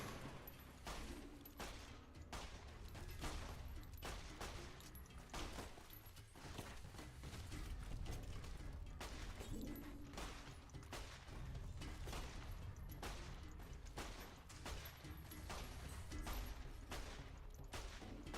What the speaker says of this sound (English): Shooting center mass with a pistol at this distance is madness